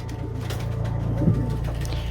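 Pigeons coo low and throaty inside a loft, one soft rolling coo rising near the middle over a steady murmur of other birds.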